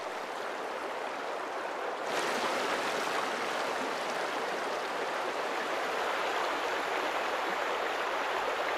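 River water rushing over shallow rapids where salmon struggle upstream, a dense continuous roar of white water that swells slightly louder after the first couple of seconds and stays steady, with no voices.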